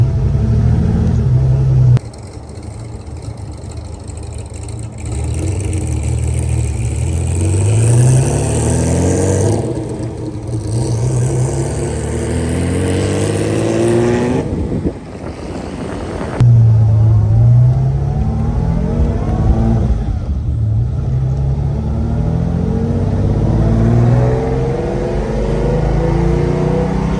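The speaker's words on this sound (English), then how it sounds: "That Ferrari sound. Still a 12 cylinder," A 1953 Ferrari 212 Europa, a raw V12 of under 3 liters, revs loudly and close up. Its pitch climbs and falls through repeated sweeps, with brief lifts off the throttle around the middle and no talking.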